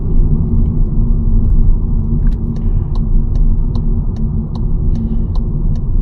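Inside a 2025 VW T-Cross with a 1.0 TSI engine and DSG gearbox, a loud, steady low rumble of road and engine noise fills the cabin, with a faint regular ticking running through it.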